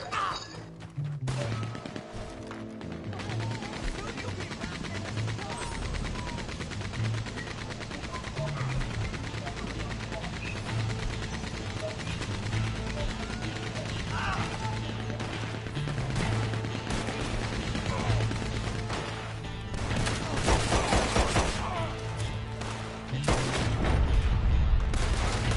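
Gunfire from the Red Dead Redemption video game on PS5: dense, sustained volleys of shots and impacts over a busy game soundscape for most of the clip, with a louder burst near the end and a voice talking over it.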